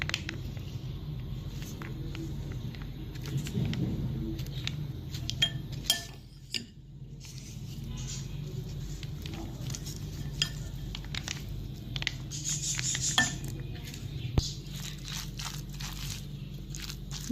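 A spoon stirs sandwich filling with mayonnaise in a bowl, giving soft, irregular scrapes, clinks and squelches close by, quiet and steady with no talking.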